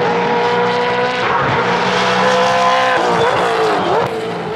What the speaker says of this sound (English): when you hear the noise of the engines